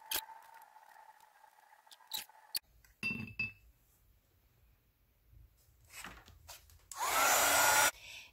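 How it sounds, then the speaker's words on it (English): A heat gun drying gesso in a mixed-media concertina journal, a steady close blowing roar near the end, after quiet taps and clinks of handling. "If you use a heat gun to dry your gesso, be careful because it will bubble up if it gets too hot."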